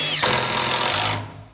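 A power drill bores through plywood in one short, loud burst of grinding whir that cuts off and fades after about a second.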